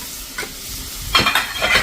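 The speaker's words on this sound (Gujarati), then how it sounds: "એને આપણે 1 જ મિનિટ આ રીતે તેલમાં જ કૂક કરશું" Coriander-cumin powder and Kashmiri red chili frying in hot oil while being stirred: a soft sizzle that swells into louder, crackling strokes in the second half.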